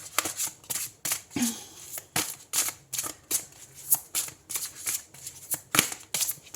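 A thick deck of oracle cards is shuffled in quick, rhythmic bursts, each riffle a crisp papery flutter close by, repeating steadily with short pauses between.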